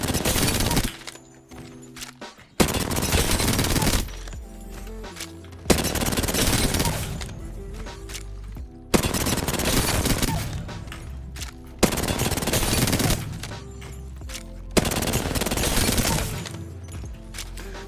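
Repeated bursts of automatic gunfire from a firing range in the video game Apex Legends, each sustained volley loud and close, separated by short quiet gaps.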